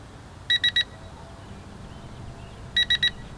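A ZLRC SG906 Pro drone gives two bursts of three quick, high electronic beeps, about two seconds apart, close and clear against a quiet background.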